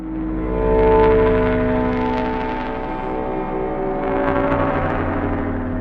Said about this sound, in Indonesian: Itu suara lampu-lampu Uni Soviet.